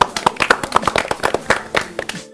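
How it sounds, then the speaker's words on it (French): A group claps together at a youth football academy, with quick, uneven, fairly close hand claps in a steady run that fades out at the end. "Donc applaudissez là-bas."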